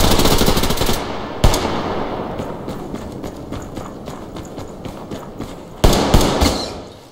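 Pistol gunfire in the video game Survarium cracks in rapid bursts at the start and end, with scattered single shots and thumps in between, loud and close.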